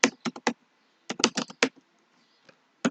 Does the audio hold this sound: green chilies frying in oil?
no